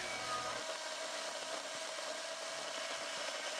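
A Keelat cordless chainsaw whines at high speed, cutting through branches with a steady bright buzz that briefly bogs lower at the start.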